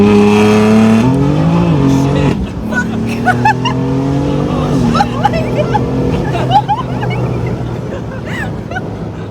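Tuned twin-turbo BMW F80 M3 on Stage 2 E30 flex fuel, heard from inside the cabin as the engine pulls hard through rising revs with gear changes, loud and close, with voices talking over it.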